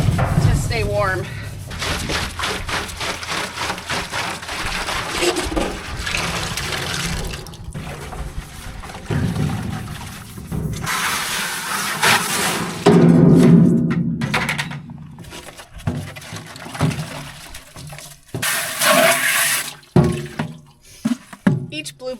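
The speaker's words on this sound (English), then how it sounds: "They just get a rinse because I can't fit a brush in there." Sap buckets being rinsed with water in freezing weather, water splashing and running in uneven bursts with occasional hollow knocks of the buckets.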